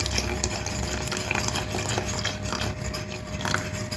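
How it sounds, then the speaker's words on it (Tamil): A utensil stirs through liquid in a pot, a continuous scraping swish with light clinks, close and steady. "கிண்டிக்கிட்டே ஊற்றணும்."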